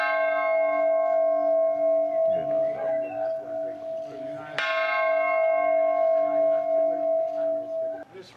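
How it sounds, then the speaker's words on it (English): A large peace bell commemorating the Good Friday Agreement is struck repeatedly, each strike ringing with a sustained, humming tone that overlaps the next, loud and close. "Biden also became the first U.S. president to ring the peace bell, which commemorates the Good Friday Agreement."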